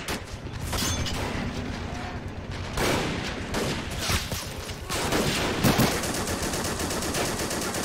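Men of War: Assault Squad combat at a 1944 Pacific airfield on Saipan, with US Marines fighting Japanese soldiers: dense bursts of machine-gun and rifle fire run throughout, with booming grenade-like blasts at intervals, loud and continuous.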